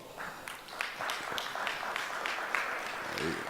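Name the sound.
audience round of applause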